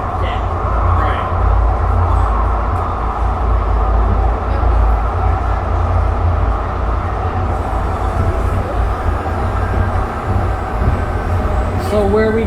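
Steady low rumble and rattling of a Siemens SD160 light rail train in motion on the CT Redline, heard from inside, with occasional voices talking faintly.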